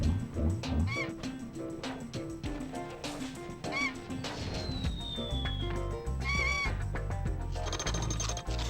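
Cartoonish birds in the video game Spyro 2: Ripto's Rage let out several honking, goose-like squawks. The calls come in short bursts over game music, along with a whooshing effect and impact sounds.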